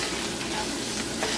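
Onions sweating in a hot frying pan alongside steak cooking, a dense steady sizzle with light stirring scrapes, close and alone.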